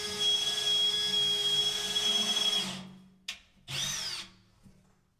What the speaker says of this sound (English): We're gonna have to drill it back out.